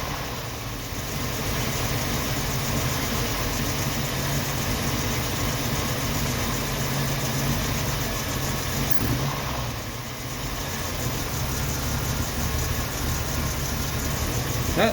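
The engine of a 1990 Jeep Wrangler idles steadily close by, a continuous low rumble with a slight dip partway through, heard on its own.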